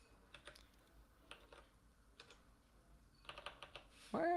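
Clicky keystrokes on a computer keyboard come in short separated bursts, typed at a close distance in a quiet room, with a brief louder sound at the end.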